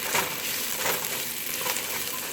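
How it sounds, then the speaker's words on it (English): Ginger and garlic paste frying with onions for a capsicum and potato curry, giving a steady, close crackling sizzle with slight stirring bursts throughout. "Now we're just going to fry them up with the onions."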